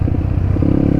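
A dirt bike engine catches and runs on an enduro trail after a crash, a loud, steady, throbbing motor note lasting about a second with no talk.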